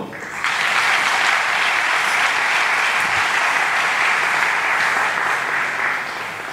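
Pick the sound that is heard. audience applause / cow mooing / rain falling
audience applause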